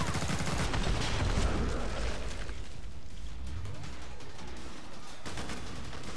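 Gunfire in the video game Killing Floor 2 at a farmhouse map, a dense burst of rapid shots early on that thins into scattered fainter shots, with a low steady game background underneath.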